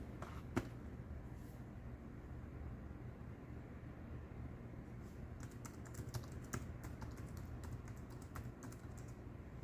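Keys clatter steadily on a keyboard hooked up to a Samsung Galaxy Tab S6 Lite, with quick irregular taps over a low background hum.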